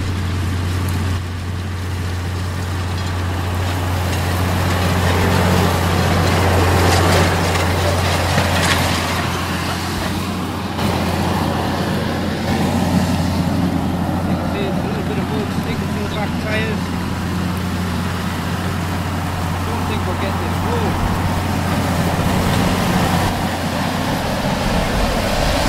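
A tractor direct drilling oilseed rape in a field, its engine a loud steady drone with a constant low hum throughout, mechanical rattle from the drill layered on top.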